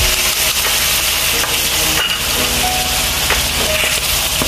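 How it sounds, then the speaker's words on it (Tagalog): Annatto (achuete) sautéing in a pan for Pancit Malabon sauce, a loud continuous sizzle and frying hiss with occasional stirring scrapes, no talking. "Gigisa rin natin yung achuete."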